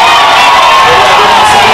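Loud, dense crowd noise fills a city council session in Magé, a sustained wall of shouting and booing voices that continues unbroken throughout.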